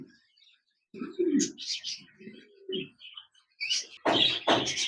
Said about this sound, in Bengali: এখানে দেখতে পাচ্ছেন এক জোড়া লাভবার পাখি রয়েছে